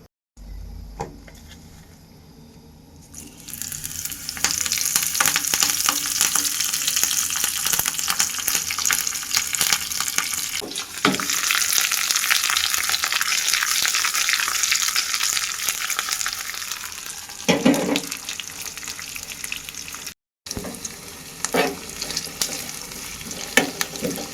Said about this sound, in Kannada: ಒಗ್ಗರಣೆಗೆ ಬೆಳ್ಳುಳ್ಳಿ ಮತ್ತು ಈರುಳ್ಳಿ ದಪ್ಪ ತಪ್ಪಾಗಿ ಹೆಚ್ಕೊಂಡಿದ್ದೀನಿ ಮತ್ತು ಕರ್ಬೇವಿನ ಸೊಪ್ಪು ಇಷ್ಟೇ ಹಾಕೋದು